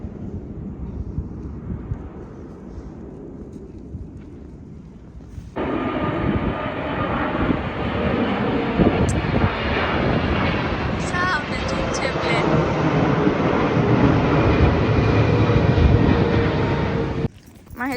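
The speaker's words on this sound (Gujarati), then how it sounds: "એરપોર્ટ નજીક છે. પ્લેનોનો અવાજ આવે છે." An airplane passes low overhead near an airport in London. Its loud, broad engine roar swells in suddenly after quiet traffic noise, holds for about twelve seconds, then stops abruptly.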